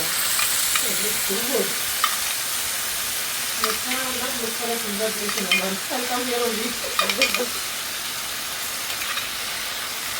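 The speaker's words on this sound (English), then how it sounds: "this is the way it sizzles" Continuous loud sizzling and hissing of sauce on a hot sizzler plate, with a voice murmuring briefly underneath.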